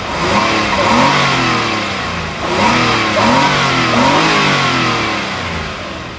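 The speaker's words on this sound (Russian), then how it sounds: "эти 6 цилиндров дают о себе знать." A Nissan Teana J32 sedan's six-cylinder engine revs up repeatedly in smooth rising sweeps, loud and close, settling briefly between pulls with no voices.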